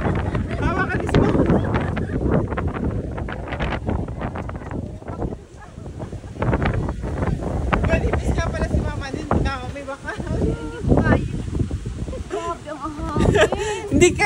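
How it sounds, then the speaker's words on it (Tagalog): Strong gusts roar and buffet the microphone throughout at Guisi Lighthouse in Guimaras, with bursts of loud rumbling noise and scattered voices underneath. "Bigla lumakas yung hangin."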